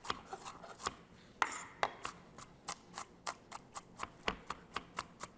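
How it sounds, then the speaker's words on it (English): An onion chopped with a knife on a board, a run of crisp, evenly spaced knocks speeding into a steady rhythm, close and clear with no talking. "So I'm actually just going to chop it"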